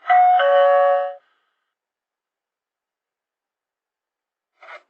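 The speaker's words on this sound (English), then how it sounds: "with a heavy paw, it reached out to press the doorbell" A doorbell, pressed by a bear, gives one loud, clear two-tone chime that rings for about a second and then stops, followed by long silence and a brief faint rub near the end.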